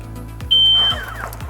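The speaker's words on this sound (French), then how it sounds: "Donc vous avez entendu un clac, un bip, et votre moto n'est pas verrouillée au niveau de la direction." A Zontes motorcycle gives a soft click, then a single clear high-pitched beep of about half a second as its steering unlocks, with faint mechanical sounds after.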